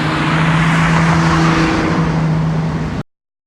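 A tuned Infiniti G37/Q60 with bolt-on mods drives along, a loud, steady engine drone with road noise heard from inside the car, holding a constant pitch for about three seconds before cutting off.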